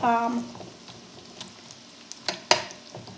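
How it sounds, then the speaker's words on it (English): Eight ounces of baby bella mushrooms sautéing in a pan for Salisbury steak, a soft steady sizzle with a few sharp crackles and utensil knocks near the end, close by, a brief voice at the start. "we're going to just let these saute until they start to turn color"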